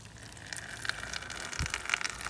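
Water from a bucket gushes onto horse bedding of wood shavings or straw in a steady, close, hissing pour that lasts the whole moment, with no voices.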